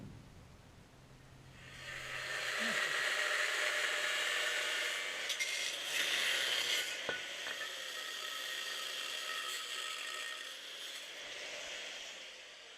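Metal stock being cut by hand for rear differential and suspension mounts on an Audi A2 replica rally car, a steady rasping cut running continuously for about ten seconds at close range with no talk.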